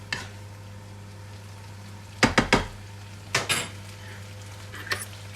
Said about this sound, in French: Je prends ma fourchette, une cuillère.